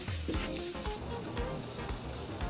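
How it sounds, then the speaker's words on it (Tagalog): Ginger and onion sizzle and crackle steadily in a hot pan for an Ilocano imbaliktad, with a continuous close frying hiss and a few faint stirring scrapes. "Igigisa lang natin tong luya at sibuyas saglit."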